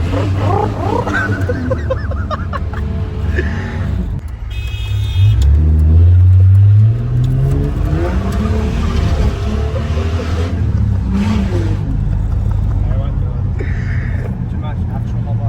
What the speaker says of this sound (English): Might see some skids.